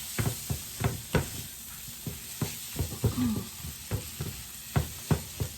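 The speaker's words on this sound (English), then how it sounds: "Now, we're going to cook this to brown it up. Brown up our flour." Flour and steak browning in a hot pan, a steady close sizzle broken by repeated knocks and scrapes of stirring, with no talk.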